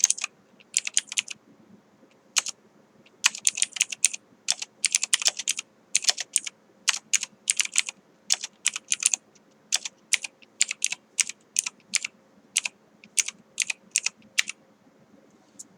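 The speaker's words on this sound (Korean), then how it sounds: "여기에 이전에 했던 것처럼 똑같은 글자를 타이핑 해 볼게요" Text typed on a computer keyboard, a quick irregular run of crisp key clicks in short bursts with brief pauses between them, close and clear against near silence, with no talking.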